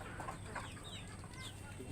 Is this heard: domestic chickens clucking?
yes